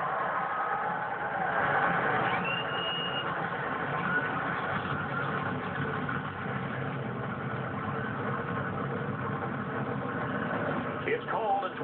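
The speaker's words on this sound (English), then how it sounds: "Drivers, start your engines." NASCAR stock car engines start and idle at Martinsville Speedway before the 2014 Martinsville 500, making a steady, dense engine drone that fills the whole stretch while a voice talks over it.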